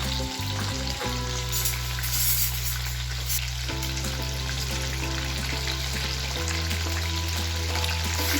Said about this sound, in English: Now we are going to fry this on the high flame.